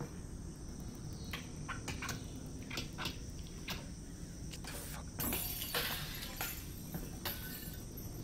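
Glass breaks in the Half-Life: Alyx video game, with sharp shattering bursts over a steady cricket-like ambient chirping that fills the background.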